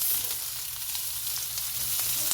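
Onions and coriander stems fry in a hot pan with a steady, close sizzle and crackle throughout, no voices.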